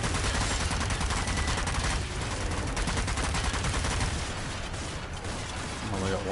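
Machine guns in the zombie shooter Zombie Army 4: Dead War rattle in a dense, continuous stream of rapid shots with heavy impacts, loud and close throughout, with game voices faintly underneath.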